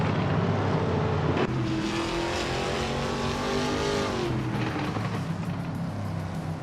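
A 2006 Alfa Romeo 156Di racing engine in a racing video game drones steadily and loud, its pitch climbing and dropping through gear changes, with a sharp shift early on and no talking.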